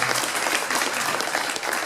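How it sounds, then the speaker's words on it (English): An audience at an anniversary event aboard the USS Intrepid in New York applauds, a dense burst of clapping from a crowd throughout, fairly loud and steady. "You could give him a round of applause, guys"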